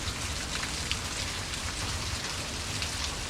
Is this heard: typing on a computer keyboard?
no